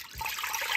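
A cream of wheat mixture flavoured with pineapple, coconut and cinnamon is poured into a pot on the stove, a soft close liquid trickle and splash lasting under a second.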